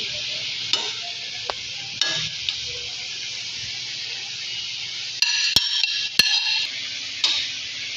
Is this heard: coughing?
no